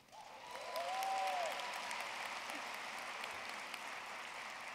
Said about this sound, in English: we don't have to wait until the end you can clap